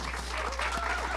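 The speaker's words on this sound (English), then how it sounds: "let's honor them and also give them a good applause" Crowd at an outdoor ribbon-cutting ceremony in Loveland gives sustained applause, dense and even clapping with a few voices mixed in.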